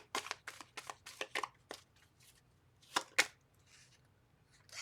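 Tarot cards shuffled by hand in a quiet room, a quick run of crisp riffling bursts followed by a pause and two more sharp shuffles, close and soft.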